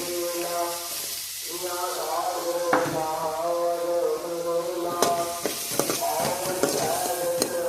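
Onions frying in mustard oil in a pan give a steady sizzle with occasional stirring scrapes, while a voice talks over much of the cooking.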